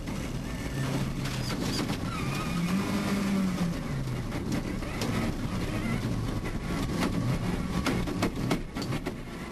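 Rally car engine running rough right after a water crossing in a gravel rally event, a loud continuous uneven drone throughout, with commentary voices in the background.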